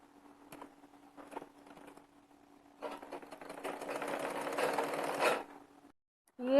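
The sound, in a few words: sewing machine stitching a kurti shoulder seam with piping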